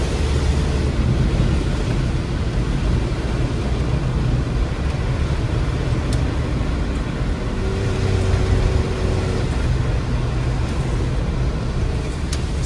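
An old CJ-2A Willys Jeep engine idles with a dense, rumbling low drone that holds steady throughout and is heard close up, with no talking.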